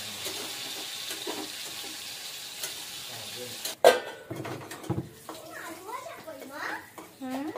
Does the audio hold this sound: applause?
no